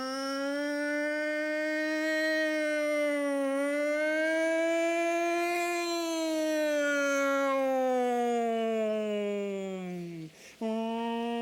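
Voices imitate a fire engine siren together, a long, sustained, rising and falling wail that stays steady and loud before a brief break near the end.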